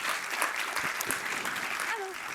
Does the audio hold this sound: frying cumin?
no